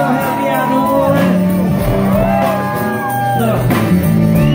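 A New Orleans concert audience at the Joy Theater shouts and whoops along in a loud, continuous roar, with overlapping voices and cheers swelling throughout.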